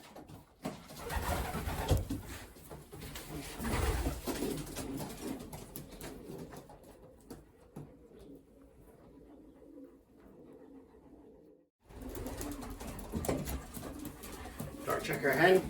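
Soft cooing of a racing pigeon, a dark checker hen, heard in a loft with low murmuring voices and handling noises around it; the coos are faint and intermittent, with a quiet gap before the sounds resume.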